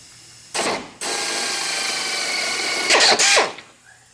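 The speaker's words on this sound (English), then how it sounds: "We've got 3 holes to drill under here. We're just going to go through the floor" A power drill bores holes up through the floor of a vehicle for rock slider installation, whining steadily and loud for a few seconds with a brief pause and a final higher-pitched surge before stopping.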